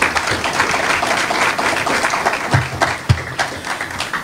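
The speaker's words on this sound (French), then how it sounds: "ça méritait encore une fois de gros applaudissements pour tout le public là" A live event audience claps for several seconds, a continuous, moderately loud patter of many hands with a few sharper claps standing out.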